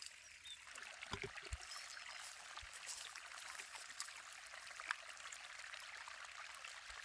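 Irrigation water runs steadily into a chickpea field, a faint continuous outdoor trickle and gurgle with a few soft knocks near the start and no voices.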